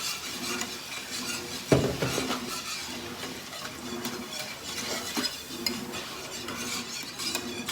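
Gravy being whisked and stirred in a pan for biscuits and gravy, a steady busy scraping and clinking of the whisk against the metal, with one sharper knock partway through, alone and close.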